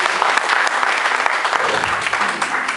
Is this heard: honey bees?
no